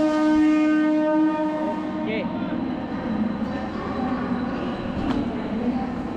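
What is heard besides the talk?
Uran–Belapur local train starting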